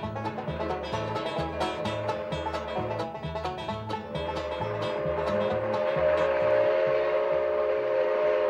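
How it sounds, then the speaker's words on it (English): A turn-of-the-century steam engine labors up a grade on the Grand Canyon Railway, pulling old-style passenger cars. Loud rhythmic chuffing and clanking run under a sustained, prominent steam whistle that rises and holds toward the end. "a turn-of-the-century steam engine, laboring and working its way up one of the classic railroads in the country"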